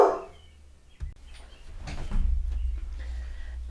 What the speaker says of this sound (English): my dog's barking at somebody.